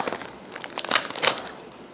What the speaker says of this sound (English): So here we got a Volcanion pack inside the Volcanion cardboard. And let's open